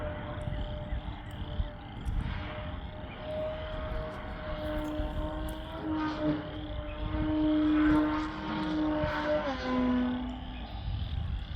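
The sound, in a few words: radio-controlled model airplane flying, propeller engine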